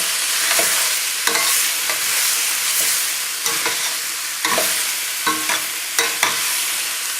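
Turkey medallions sautéing with vegetables in a pan, a continuous bright sizzle broken by repeated scraping and stirring clatters at irregular intervals, close up with no voices.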